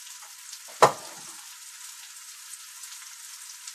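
Shrimp hit a hot pan for Peruvian arroz chaufa with a sharp hiss, then settle into a steady, close, fine crackling sizzle.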